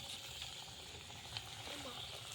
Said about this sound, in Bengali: এবার আমি পরের পকোড়াটা ভেজে নেব।